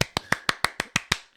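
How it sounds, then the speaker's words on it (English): Eight sharp hand claps in an even, quick rhythm, close and loud, made to line up audio with picture, with no talking. "That's too many claps."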